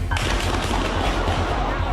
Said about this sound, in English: The first crack of gunfire.